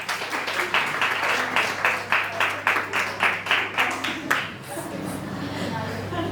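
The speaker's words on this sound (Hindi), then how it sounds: "ताली बजाएंगे उनके लिए जो लेट आते हैं" A church congregation applauds latecomers with steady rhythmic clapping for about four seconds that then fades, while a low hum runs underneath.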